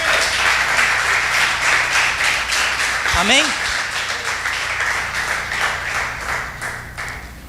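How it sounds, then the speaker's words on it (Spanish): A church congregation applauds loudly and steadily, a dense wash of clapping throughout with a spoken voice briefly rising over it near the middle. "Un fuerte aplauso al Señor."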